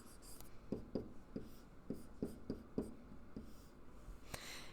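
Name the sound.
writing an equation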